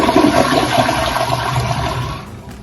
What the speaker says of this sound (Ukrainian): Такий унітаз і називається унітазом сифонного типу.